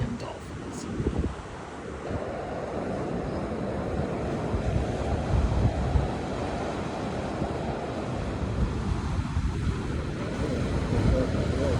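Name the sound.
ocean waves breaking on the beach shore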